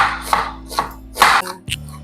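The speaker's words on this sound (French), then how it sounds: "On va découper nos oignons comme ça." A knife chops onions on a board while an Ivorian attiéké and grilled fish meal is being prepared. Four or five distinct, close cuts land at an uneven pace, with no talking.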